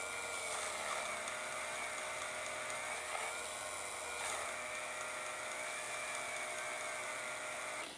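Model locomotive wheels on a Class 37 spin against a Peco PL40 wheel cleaner, giving a steady high-pitched whir that holds at constant loudness for the whole stretch, close and alone, with no talk.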